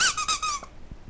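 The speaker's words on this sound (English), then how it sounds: "Squeaky chicken." A squeaky chicken dog toy gives one loud, high, drawn-out squeak that fades quickly, heard close and alone in a home while playing with a puppy.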